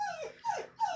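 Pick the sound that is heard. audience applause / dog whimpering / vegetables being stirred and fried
dog whimpering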